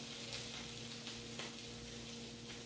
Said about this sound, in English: We'll add this to the onion and let them both saute a bit while they get soft.